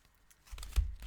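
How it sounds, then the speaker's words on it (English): A new tarot card deck, still stiff, being shuffled by hand: soft papery riffles and crinkling that swell into a brief louder flurry of card slaps near the middle, then settle into light rustling. "Still a bit new, this deck, so it's not as easy to shuffle."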